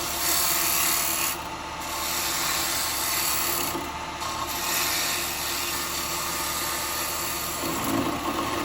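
Steady scraping rasp of a woodturning gouge riding its bevel on a spinning piece of wood on a lathe, continuous and close with a constant machine hum beneath and a few brief shifts in tone.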